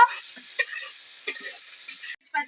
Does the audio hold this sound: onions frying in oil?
yes